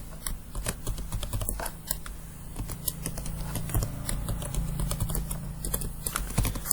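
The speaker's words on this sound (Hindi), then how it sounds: "इसके बाद हमने admin@123 ओल्ड पासवर्ड लिख देना है, न्यू पासवर्ड" Password typed on a computer keyboard, a steady run of close, crisp key clicks with irregular rhythm over a low background hum, no talk.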